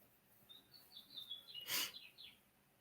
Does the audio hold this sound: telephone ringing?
no